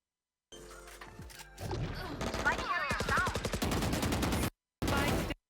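Rapid bursts of Valorant gunfire crackle in quick succession, loud and close, with brief gaps near the end.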